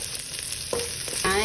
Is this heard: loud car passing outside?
no